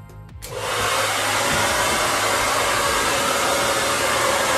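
A hair dryer blows onto a dog's ear during home grooming, switching on after a brief moment and then running as a loud, steady whoosh with no voices.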